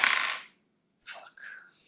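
Dice tumble across a table during a tabletop game: a loud, bright clatter that dies out, then a couple of softer rattles and taps as they settle.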